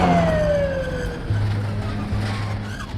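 An ambulance siren wails and sweeps as it approaches on a road near a crash scene, loud and close over rumbling traffic noise, with no talk.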